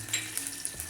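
Oil sizzles steadily in a kadhai with cumin and garlic for Solapuri peanut chutney, a short, even frying hiss with a few faint metallic clinks.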